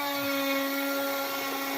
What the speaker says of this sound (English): put the burr through the plastic material and drag it and pull